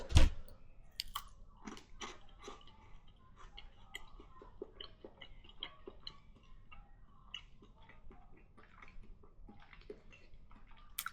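Crunchy, close-up chewing of a fat Kit Kat chocolate bar, with irregular bites and mouth clicks over several seconds and no talking.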